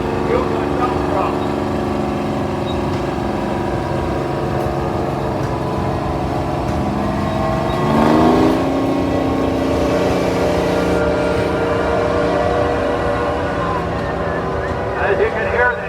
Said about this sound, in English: As you can hear, the Yukon dump truck is powered by a Jimmy diesel.